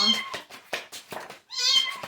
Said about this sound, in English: There's that cat.